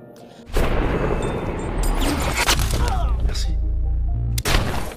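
Loud gunfire bursts in a gangster film's apartment shootout, sharp booming impacts starting abruptly and sustained across the scene with a dense rumbling low end, then another sudden blast near the end.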